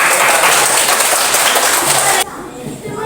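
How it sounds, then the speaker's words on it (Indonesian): A crowd applauds loudly with dense clapping that cuts off abruptly, leaving quieter background chatter. "tepuk tangan dulu"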